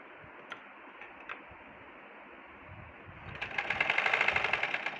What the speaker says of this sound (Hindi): अब हम यहाँ पे इस तरफ करते हुए एक स्टिचिंग और लगा लेंगे।